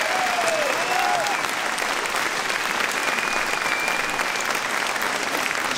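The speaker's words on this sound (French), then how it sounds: "Oui, applaudissez-le." Audience applause at an Éric Zemmour conference in Charvieu-Chavagneux, honoring the mayor, a sustained, even wash of many hands clapping throughout, with a faint whistle briefly rising above it.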